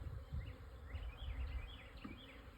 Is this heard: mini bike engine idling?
no